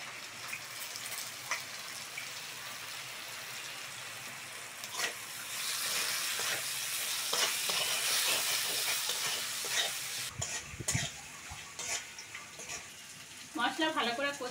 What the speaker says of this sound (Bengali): এবার লঙ্কা আর পেঁয়াজটা দিয়ে দেবো।